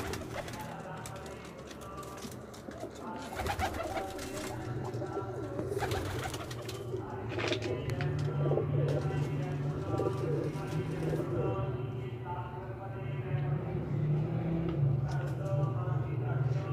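Several caged pigeons coo in low, throaty rolls nearby, with occasional chirps and faint rustling in the background.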